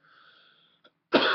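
A harsh, noisy cough bursts out abruptly near the end, loud and close to the microphone, following a faint hum and a tiny click.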